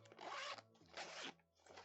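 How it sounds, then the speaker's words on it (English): Zipper on a fabric storage bag from a craft supply haul, pulled in three quick raspy strokes, close and fairly quiet, with no talking. "So the zipper does not feel super great."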